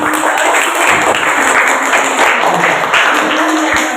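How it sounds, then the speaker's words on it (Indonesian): A room full of students claps steadily and loudly for several seconds after a group presentation, a dense, continuous wash of applause with faint voices mixed in. "Tepuk tangan."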